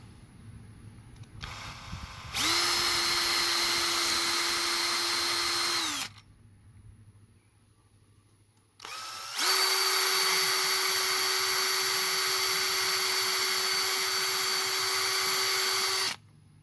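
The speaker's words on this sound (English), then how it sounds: "Now I'm going to go back through these holes with my larger 1/8 bit." A power drill fitted with a 1/8 bit widens small holes in a scale ladder build for a backyard crawler course, running in two steady, high-pitched whining bursts of about four and seven seconds, close and loud, with a short quiet gap.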